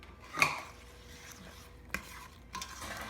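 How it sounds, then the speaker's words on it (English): A spoon stirs raisins and almonds into German pound cake batter in a bowl, giving a few soft scraping and clinking strokes, quiet and close, with short gaps between them. "I think we can now add raisins and almonds to be stirred in."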